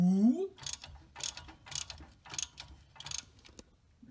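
A ratchet works on the rear hub bolts of a Trailblazer SS, six close, evenly spaced bursts of clicking pawl chatter after a brief rising tone.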